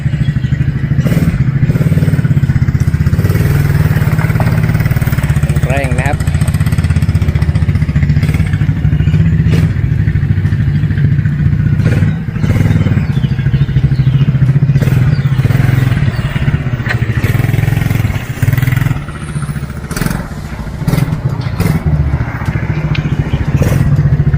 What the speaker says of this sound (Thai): น้องโชคลองขี่ดูครับ